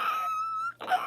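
A person vocally imitates an annoyed cat, letting out a sustained, close, nasal wail that holds a steady pitch, breaks briefly, then rises into a short final yowl.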